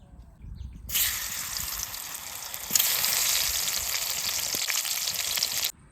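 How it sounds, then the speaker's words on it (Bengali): A hilsa fish head drops into hot oil with a sudden loud burst of sizzling that holds strong and steady for several seconds, close by, then cuts off abruptly. "ইলিশ মাছের মাথাটা আছে এটা কচু শাক রান্না করার জন্য ভেজে নেবো এবার"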